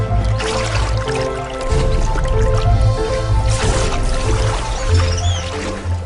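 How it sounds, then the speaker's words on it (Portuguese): Arowana leaping from the water in a nature setting, heard as wet splashing and dripping water over a dense, constant background of jungle ambience. "Quando vê um alvo, o aroanã salta da água para o ar."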